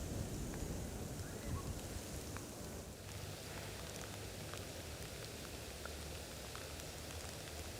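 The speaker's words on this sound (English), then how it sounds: "the rain's coming down heavily again" Heavy rain falling on a Cotswold countryside walk near Beckford, a quiet, steady, diffuse patter with scattered drop ticks and no talking.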